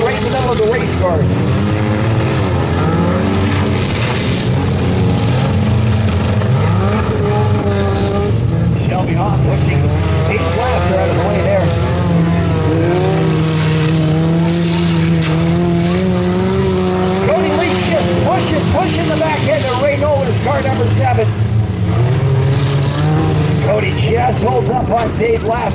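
Mini stock race cars in a figure 8 race, engines roaring and revving loudly throughout with tires squealing and cars colliding, a race announcer talking over the constant din.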